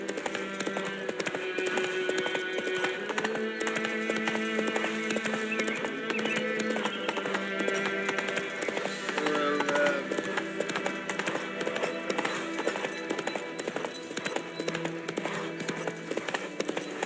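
Roach's hooves clip-clop at a steady walking pace in The Witcher 3, an even rhythm of hoof falls over continuous in-game music and ambience.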